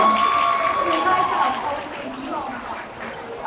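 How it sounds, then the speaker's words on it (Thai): Audience at a Thai film gala applauds in a steady, moderately loud wash of clapping, with a voice talking over it and the clapping thinning slightly toward the end. "ขอเสียงปรบมือหน่อยนะครับ"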